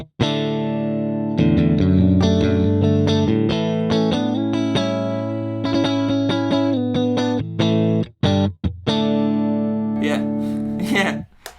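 A clean electric guitar through the Neural DSP Archetype: Cory Wong amp plugin plays chords and picked notes with a full, warm tone and light effects, alone without talking.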